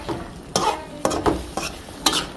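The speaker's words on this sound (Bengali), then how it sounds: "এখানে মূলাটা ভালোভাবে কষাই নেব" Radish sautés in a pan: a low sizzle is punctuated by four or five sharp stirring scrapes and clatters at irregular intervals, close and prominent.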